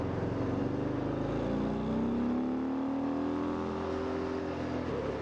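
A Mini car accelerating hard nearby, its engine note climbing steadily and loud against a constant rushing road and wind noise, with no talking.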